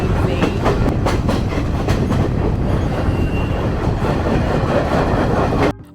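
The El Chepe Express passenger train in Mexico rolls along the rails with a loud, dense rumble and rhythmic clickety-clack wheel beats heard close up from onboard, ending with a sudden cutoff.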